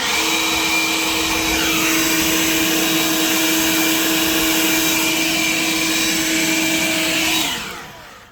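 A Bauer cordless battery leaf blower runs at a loud, steady whine and rush of air close by, holding constant before spinning down and cutting off at the end.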